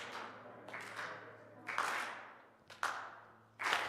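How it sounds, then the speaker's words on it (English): A church congregation clapping hands slowly and in unison, four broad synchronized claps spaced about a second apart, each ringing out in a reverberant sanctuary over a low steady hum. "Could I get everybody to clap your hands like this?"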